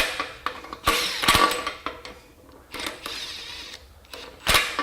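An 18V Makita XWT14 impact wrench, rated at 430 ft-lbs, snugging up fasteners in short repeated bursts of mechanical rattling and hammering, each a second or less, separated by pauses, with no talk.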